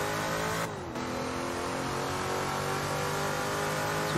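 A 1967 Can Am race car in Assetto Corsa, its engine held at a loud, steady high rev with a brief dip in pitch as it shifts, then droning on continuously close up.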